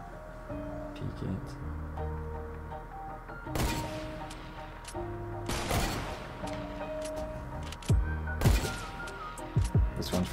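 Hunting rifle shots ring out in Fortnite, several sharp loud cracks at irregular intervals over ongoing game sounds, with quieter gunfire near the end.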